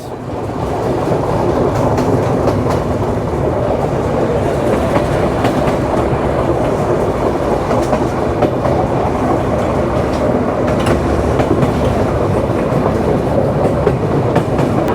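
The Rupshi Bangla Express, a passenger train in Bangladesh, runs on its rails past Navaran railway station in Jessore. Heard from on board, it gives a loud, continuous rumble with rhythmic clickety-clack of the wheels and no voices.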